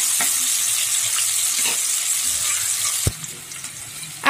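Chopped onion and sugar fry for eggplant bahari, with a dense, even sizzle of hot oil running throughout. Near the end a single sharp clatter of a utensil against the pan breaks through and the hiss softens.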